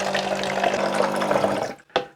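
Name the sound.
Xiaomi automatic bottled water pump dispensing water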